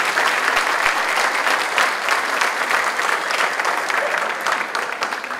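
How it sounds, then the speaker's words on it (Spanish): Audience applause after a dance performance, loud, dense and continuous clapping from a large crowd that tapers slightly toward the end. "gracias por esos aplausos"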